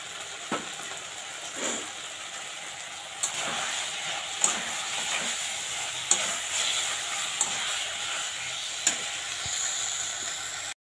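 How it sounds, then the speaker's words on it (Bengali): Fish curry and vegetables cook in a pan with a continuous, moderate sizzle. Sharp utensil clicks and scrapes break in every second or so. "এদিকে আমার মাছের ঝোল হচ্ছে, মানে সবজিটা হচ্ছে"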